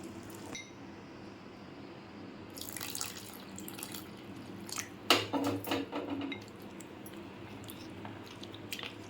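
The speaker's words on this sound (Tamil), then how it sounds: "1/2 டம்ளர் தண்ணி ஊற்றிருக்கேன்." Half a tumbler of water is poured into a chicken marinade. Soft splashes and drips are followed by wet squishing as it is mixed, all close and fairly quiet with no talking.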